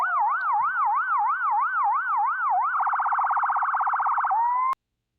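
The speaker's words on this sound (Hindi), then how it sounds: "ये सायरन बजाते हुए जान बचाने के लिए दौड़ती है।" A loud ambulance siren wails up and down steadily, then switches to a fast rapid yelp before cutting off abruptly, heard alone and close.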